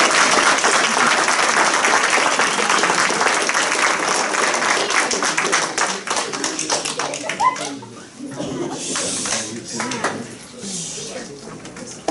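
Applause from an audience at a city council meeting, a dense, steady wash of clapping that thins out and fades toward the end.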